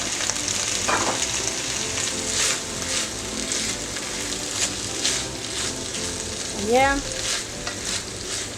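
Pasta is stirred in a pan with butter on the stove, with a continuous buttery sizzle under scraping spoon strokes and a brief sliding clink near the end. A voice speaks a single short word.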